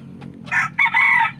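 A rooster crows once, close and loud, a short strained call that rises and then holds.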